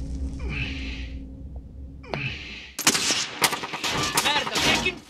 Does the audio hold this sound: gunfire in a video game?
yes